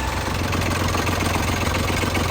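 A Yanmar 3YM30 three-cylinder marine diesel, the starboard engine on a sea trial, runs at about 1100 RPM in reverse while anchoring, its hatch open; a steady, loud, close drone with an even low throb and no voices.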